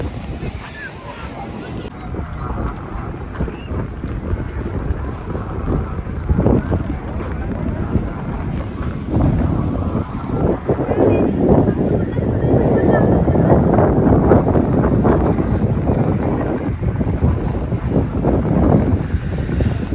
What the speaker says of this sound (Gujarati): એટલો સરસ પવન છે ને અહીંયા.